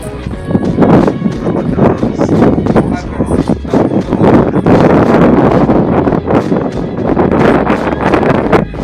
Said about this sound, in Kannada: ಭಾಳ ಗಾಳಿ ಇತ್ತು ಇಲ್ಲಿ